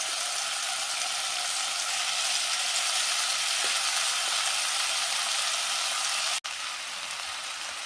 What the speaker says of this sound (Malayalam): ബാക്കി നമുക്ക് ഇതുപോലെ വറുത്തെടുക്കാം.